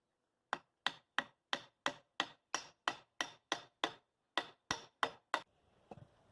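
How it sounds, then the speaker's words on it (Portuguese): A hammer taps wooden parts of a small orchid stand together, about fourteen sharp, evenly spaced knocks, close and crisp, followed by a softer scrape at the end. "fui batendo aqui com o martelo para encaixar uma parte na outra"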